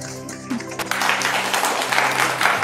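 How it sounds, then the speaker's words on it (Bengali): An audience breaks into applause after a short quiet start, the clapping swelling to a steady, dense roar that continues to the end. "আও স্পিকারে স্পেশাল হাততালি হয়ে যাক।"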